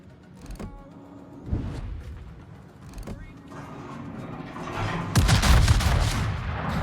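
Warship guns firing in World of Warships, a few scattered booms early on and then a loud heavy salvo near the end, rumbling on. A player talks over it.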